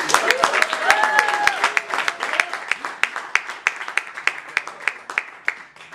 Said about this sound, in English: Can you please give Stephanie a big round of applause as she joins us?